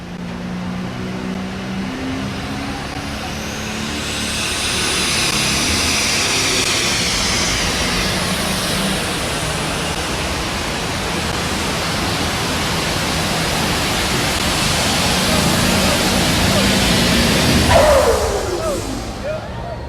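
A super stock tractor pulls down the track at the 1994 NFMS finals in Louisville, Kentucky, a loud sustained engine roar that builds and holds before a sweeping whine near the end.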